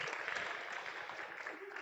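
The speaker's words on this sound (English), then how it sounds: "a round of applause for all of them" Guests at an eighth-grade promotion ceremony give a brief round of applause, a short, muffled patter of many hands at a modest level.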